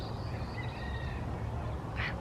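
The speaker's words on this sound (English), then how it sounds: "I love the birds in the morning." Birds call in the morning around a garden on a homestead, faint chirps and a short louder call near the end, set over a steady low outdoor rumble.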